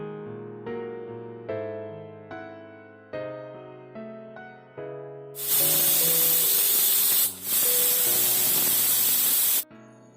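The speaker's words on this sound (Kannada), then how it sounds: "ಮುಚ್ಚಳ ಮುಚ್ಚಿ ಒಂದು 2 ವಿಜಿಲ್ನ ಕೂಗಿಸ್ಬೇಕು" A pressure cooker cooking chicken biryani vents steam: after several seconds of plucked musical notes, a loud, steady rushing hiss takes over for about four seconds, with one brief break.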